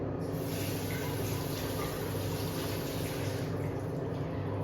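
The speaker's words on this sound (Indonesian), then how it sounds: "bilas kedua tangan dengan pada air mengalir" Hands rinsed under running tap water during handwashing: a continuous, even hiss of flowing water, steady throughout with no voices.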